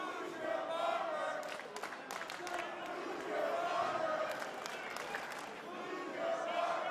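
A wrestling crowd murmurs and shouts at an NWA show in Chalmette, Louisiana. The steady, fairly distant roar has scattered yells and claps, and a commentator talks over it.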